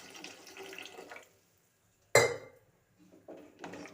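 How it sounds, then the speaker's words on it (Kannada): Water splashes briefly into a pan of vegetable curry for a vegetable palya, one sharp loud pour-like burst between quieter kitchen clatter and stretches of near silence. "ನೋಡಿ ಒಂದು ನೀರು ಹಾಕ್ತಾ ಇದ್ದೀನಿ"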